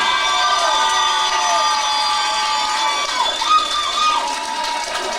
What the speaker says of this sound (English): And please keep the applause going for Neil Pearson.